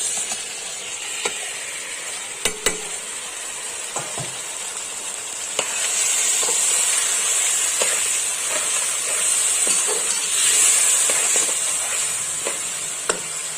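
Beef sizzling as it goes into a pot with garlic paste for a spicy beef biryani, a steady frying hiss that swells and continues, broken by sharp clinks and scrapes of stirring, with no talk.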